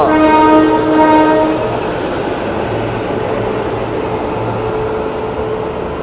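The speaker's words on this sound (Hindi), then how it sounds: "हावड़ा राजधानी।" Howrah Rajdhani express, a Kavach-fitted train hauled by a Howrah-shed WAP-7 electric locomotive, sounds a loud horn for about a second and a half, then a steady rumble and wheel clatter of its coaches continues close by.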